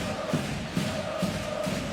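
Vechta home fans fill a basketball arena in northeastern Germany for a Champions League game against Anwil Wloclawek, with a steady crowd roar and rhythmic chanting pulsing in repeated beats, loud and enveloping.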